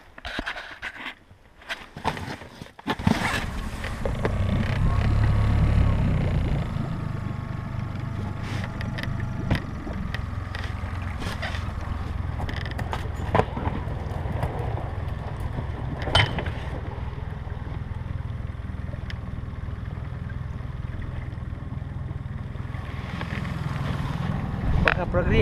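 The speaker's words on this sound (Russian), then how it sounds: "Все, завели моторчик." Small boat motor on a nighttime fishing trip, on its first run after sitting unused all winter, droning steadily and close after a few knocks, with wind buffeting the microphone throughout.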